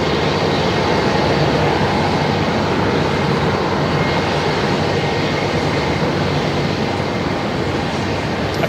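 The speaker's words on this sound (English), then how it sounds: "Qantas 94. Dreamliner." A Qantas Boeing 787 Dreamliner is pushed back at Melbourne Airport, its engines giving a continuous, even roar with a low rumbling undertone that stays loud and unbroken.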